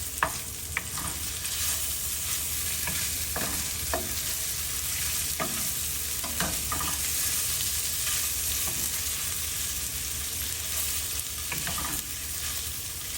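Chorizo sizzles in a pan for breakfast burritos, a steady close frying hiss broken by occasional scraping stirs and small pops throughout, with no talking.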